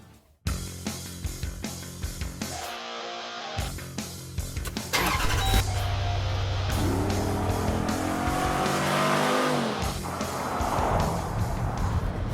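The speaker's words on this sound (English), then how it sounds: "We present the Jeep Grand Cherokee SRT V8 with nearly 500 horsepower." A nearly 500-horsepower Jeep Grand Cherokee SRT V8 starts with a sharp crank and bark, then revs hard and drives off, its loud, close engine roar climbing through shifts and holding a steady, rumbling drone to the end.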